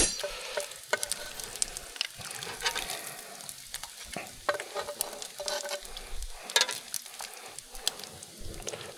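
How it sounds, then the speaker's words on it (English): Bacon frying on a cast iron griddle set over an open braai fire, with a steady close sizzle and crackle, irregular pops and spits, and occasional scraping or stirring sounds throughout. "Have you ever done bacon on a fire and cast iron griddle before?"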